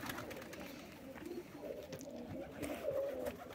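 Pigeons coo softly at a pigeon loft, a low murmuring burble of doves with faint background rustle, quiet and close.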